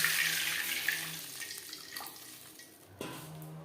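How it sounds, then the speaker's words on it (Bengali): Water pours into a cooking pot of fried potatoes for vegetarian khichuri, a soft continuous rush that eases off, then a small splash near the end. "দিয়ে দেবো জল"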